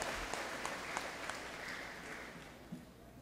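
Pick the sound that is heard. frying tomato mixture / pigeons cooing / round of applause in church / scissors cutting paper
round of applause in church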